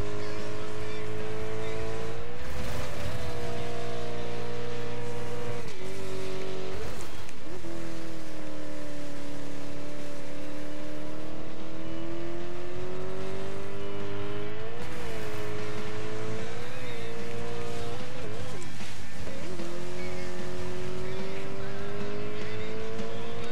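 An Aston Martin race car engine roars through a Dirt 5 video game race, loud and unbroken, its pitch climbing and dropping with gear changes and corners, with occasional tire squeal.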